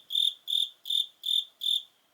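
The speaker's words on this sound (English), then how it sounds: "we have crickets downstairs" Crickets chirp downstairs in a house, five evenly spaced, steady high trills in a slow regular rhythm, clear and close against a silent background.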